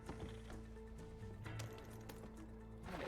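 Horse hooves clopping in a western role-play video game as the horse is moved, a quiet steady clip-clop in a soft ambient background, with no talking.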